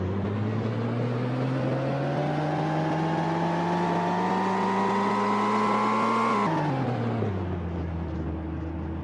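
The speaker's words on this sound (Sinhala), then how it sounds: "කැම්මට ස්ටාර්ට් කරගමු වාහනේ." A vehicle engine runs with a steady droning hum that rises gradually in pitch for several seconds, then drops abruptly and settles into a lower, quieter idle.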